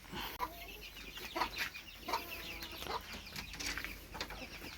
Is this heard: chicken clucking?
yes